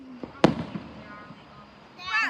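Fireworks burst at a beach show on Ocean Isle Beach, North Carolina, with one loud sharp bang followed by crackling and a second blast near the end, against a noisy outdoor background.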